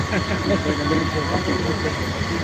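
Passenger train running on a journey, a steady loud rumble of the moving carriage with continuous low rolling noise and indistinct voices underneath.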